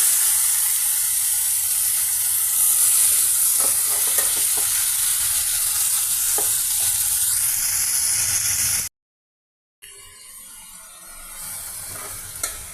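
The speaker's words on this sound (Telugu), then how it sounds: "అల్లం చిన్నుల్లిపాయల పేస్ట్, ఆయిల్, టమాటా పీసెస్ ఈ విధంగా ఫ్రై అవుతున్నాయండి." Tomato pieces fry in oil with onion, green chilli and a ginger-shallot paste, giving a loud steady sizzle with faint stirring clicks, then a sudden break and a quieter sizzle afterward, with no talking.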